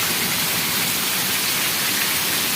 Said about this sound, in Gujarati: એટલો વરસાદ પડ્યો